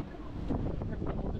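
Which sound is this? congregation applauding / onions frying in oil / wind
wind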